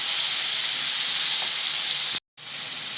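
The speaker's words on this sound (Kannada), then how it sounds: "ಈಗ ಇದನ್ನ ಚೆನ್ನಾಗಿ ಎಣ್ಣೆಲಿ ಫ್ರೈ ಮಾಡ್ತೀನಿ, ಹಸಿ ವಾಸನೆ ಹೋಗೋವರೆಗೂ" Chopped onions, four medium ones, sizzling in hot oil for a spicy seer fish curry, a steady close hiss that carries on with no talk and cuts out briefly near the end.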